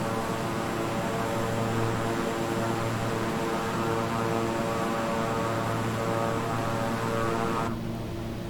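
A King Air 350i twin-engine turboprop drones steadily in Microsoft Flight Simulator, a constant loud engine hum and airflow with faint tonal whine, cutting to a quieter tone near the end.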